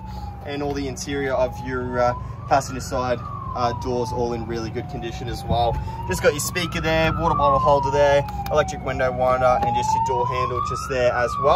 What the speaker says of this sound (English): I do apologize about the siren.